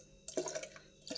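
Water poured into a cooking pot of dal with chopped vegetables, two short splashing bursts separated by a brief pause, close and fairly clear.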